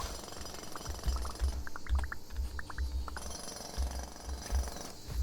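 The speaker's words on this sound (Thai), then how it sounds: "ผมกำลังเจาะมันเลย" Drilling in the video game Alba: A Wildlife Adventure, a rough repeating mechanical rattle in short pulses over a steady background hum, with light chirping tones scattered above it.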